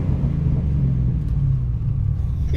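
An Aston Martin engine holds a steady, deep rumbling idle close by for a couple of seconds, with little sign of a sharp rise in revs.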